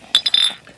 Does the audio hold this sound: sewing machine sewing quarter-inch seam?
no